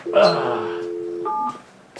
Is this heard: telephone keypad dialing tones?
yes